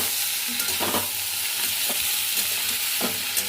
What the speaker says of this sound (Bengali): মোচা আলু সিদ্ধটা দিয়ে দিলাম, এবার ঘাটবো